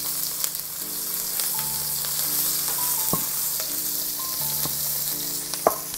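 Onion pieces, garlic and ginger frying in a pan for Singapore rice-vermicelli noodles, a constant close sizzle with a spoon scraping and stirring through it and a few sharp clinks.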